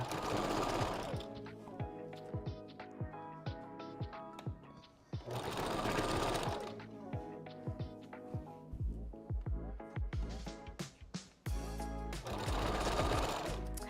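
Sewing machine backstitching a 5x5 wig closure: loud motor runs in rapid bursts, with short lulls between them filled by clicks and small mechanical taps, close by and with no talk.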